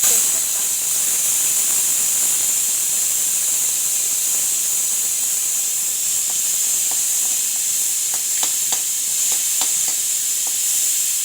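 Cloves, cardamom and bay leaves sizzling in hot ghee, a steady high hiss throughout with scattered small pops and crackles growing busier toward the end.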